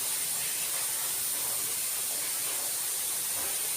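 Steady hiss of steam rising as idli rava is steamed over hot water, a constant airy wash with no talk, heard up close for a few seconds.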